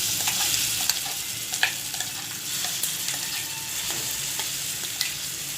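Pigeon pea chutney goes into a hot sizzling tempering and is stirred, a dense steady crackle with frequent spoon scrapes and taps against the pan, close and continuous, no talking.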